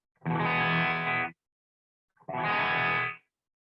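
Electric guitar played through a reverb pedal: two loud sustained chords, each ringing about a second with a spacious roomy tail, separated by a short silence.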